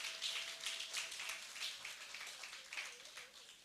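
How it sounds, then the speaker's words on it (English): Faint, distant applause at a university graduation ceremony: a crowd's patter of clapping runs throughout, with loose bursts rising and falling and a thin steady tone underneath. "Let's have a round of applause, a resounding round of applause."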